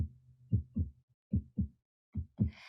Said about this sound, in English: We have fast heartbeats.